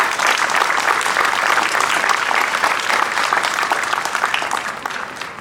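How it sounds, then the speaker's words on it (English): A crowd at a Veterans Day ceremony in Temple City applauds singers with several seconds of loud, even clapping that thins and fades toward the end. "you can give a round of applause"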